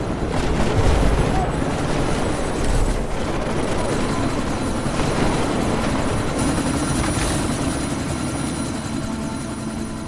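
Helicopter in Deus Ex: Mankind Divided during a sandstorm, a loud continuous rotor roar and engine whine with a few booming impacts early on.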